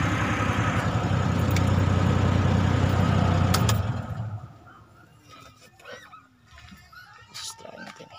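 Three-piston engine running during an oil additive lube test, a loud rough idle with a low, steady rumble for about four seconds before cutting off, followed by quieter background noise and people talking.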